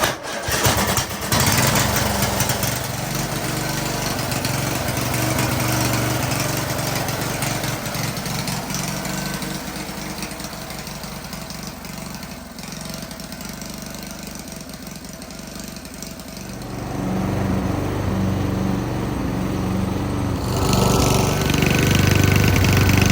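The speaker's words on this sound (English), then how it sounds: "The Craftsman mower, I got it." A Craftsman lawn mower engine, its choke just repaired after revving too high, runs steadily and loud for the whole stretch, shifting pitch slightly near the end as the throttle changes; no talk over it.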